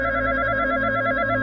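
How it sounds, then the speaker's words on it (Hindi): A telephone rings with a steady, continuous electronic trill, loud and sustained with no pauses, in a cremation ground at night. "घंटी की आवाज फोन से नहीं, शमशान के अंदर से आ रही है।"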